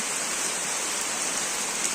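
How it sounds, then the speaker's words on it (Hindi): Heavy rain pours down in a dense, unbroken hiss, loud and close, with no speech or other sounds. "साला पूरा पानी गिर रहा है यार"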